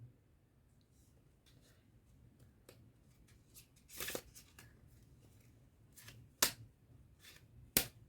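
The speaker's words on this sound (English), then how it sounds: "So you start to shuffle the cards." Soft riffling and rustling of playing cards being shuffled, with a few sharper snaps near the end, close and fairly quiet.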